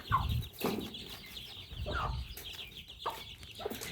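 A Burmese fighting rooster clucks in short, repeated bursts, about five in a few seconds, close by over faint background noise.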